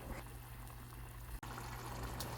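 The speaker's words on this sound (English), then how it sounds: "Just put 1 cup of broth and bring to a boil." Broth heating in a pot on the stove for soft tofu stew, giving a steady close bubbling and simmering hiss with a brief clatter partway through.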